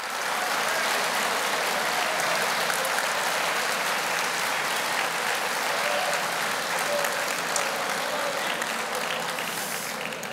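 Sustained applause from a large crowd at a Greek election campaign rally in northern Athens, steady and loud throughout with no pauses.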